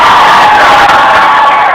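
A live event audience at a Lecrae talk cheers and applauds, a dense, loud wash of crowd noise with whoops and shouts sustained evenly through the whole moment, no pauses or isolated voices standing out.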